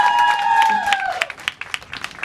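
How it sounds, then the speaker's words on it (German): Stage show audience breaking into applause for a performer; a voice with a sustained tone fades out as scattered, sharp claps rise and pulse unevenly. "also einen riesen Applaus,"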